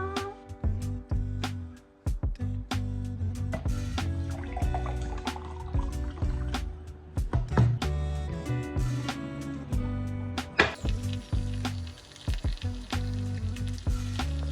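Eggs frying in a pan in a home kitchen, a steady close sizzle with scattered sharp crackles and pops, no voices over it.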